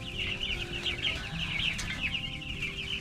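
A young farm rooster makes a rough, repeated crowing attempt with clucking calls, fairly close, over steady background noise and no talk.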